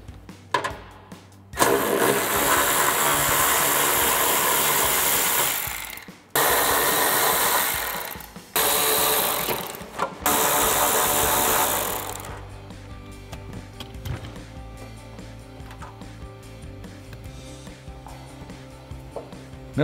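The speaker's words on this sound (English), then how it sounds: "we're going to take those off using our 10mm socket" Ratchet with a 10mm socket loosening nuts on a 2005-2009 Mustang rear spoiler, loud sustained whirring bursts broken by short pauses, then quieter clicks and handling noises toward the end.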